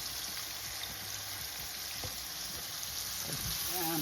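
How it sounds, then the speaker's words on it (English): Garlic and pepper fry in a pot for a Guyanese-style snapper stew, giving a steady close sizzle throughout with faint stirring clicks and no talk. "I'm gonna add my garlic and my pepper in to cook for a minute or so."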